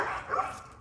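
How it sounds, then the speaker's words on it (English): Two dogs, one from next door, bark excitedly at each other in a single brief, somewhat distant burst over a noisy outdoor background. "you hear the excitement between my dog and the neighbor's dog"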